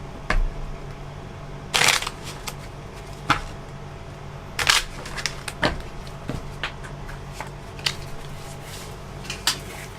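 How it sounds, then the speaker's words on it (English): Tarot cards being shuffled by hand in a quiet room, a few soft, brief riffling bursts and scattered light taps and rustles spread irregularly through the stretch, faint and close with no talking. "this card's is giving me a little bit of hard time to shuffle."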